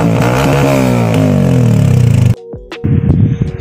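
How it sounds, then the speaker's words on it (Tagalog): Yamaha Sniper 150 motorcycle engine fitted with a new aftermarket muffler, running close and loud with a steady throbbing rumble that rises in pitch, then drops abruptly to a lower idle-like burble with a brief rev. "mamaya guys ay papaparinig ko sa inyo ang tunog ng muffler na ikinabit natin sa kanya"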